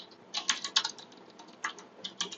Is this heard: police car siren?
no